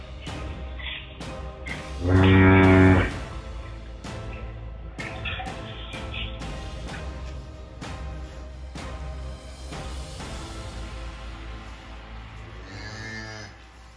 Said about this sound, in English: there is a cow calving on the live feed